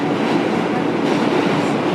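Steady rumble and rush of a train running on rails, loud and continuous from the inside of the car, with faint voices in the background.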